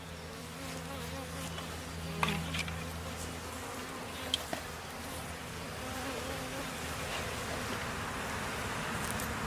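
Honey bees from a package being installed into a hive hum in a steady close swarm drone with faint rustling, continuous and even throughout.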